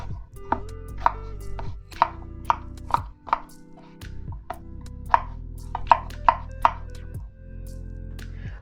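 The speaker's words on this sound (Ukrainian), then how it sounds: "ми тим часом нарізаємо картоплю, нарізаємо кубиками" A knife chops potatoes into cubes on a board for a chicken soup: a dozen or so sharp, close knocks at an uneven rhythm over soft background music, with no talking.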